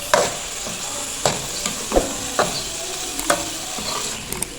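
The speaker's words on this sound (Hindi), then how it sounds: "अब इसमें डालेंगे लोबिया और अब मसाले के साथ इसको 3 से 4 मिनट भूनेंगे अच्छे से।" White kidney beans (lobia) being stir-fried with masala in a pan, giving a steady close sizzle with repeated scraping clacks of the spoon every second or so and no talking.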